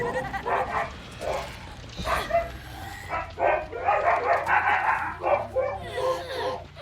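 Dogs bark and yelp in a busy run of short, uneven bursts, moderately loud and close, with a few quieter gaps between barks.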